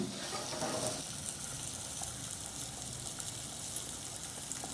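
Surmai fish frying in a pan as a steady, even sizzle that holds through the whole stretch, with faint kitchen clatter over it and no talking.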